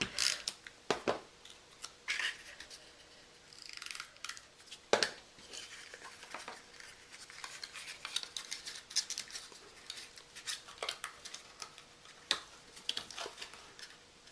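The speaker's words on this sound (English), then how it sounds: "Trim that down a bit, just close to the edge." Scissors trimming stamped paper close to the edge for a small Christmas box, a series of quiet crisp snips at irregular intervals, close and faint.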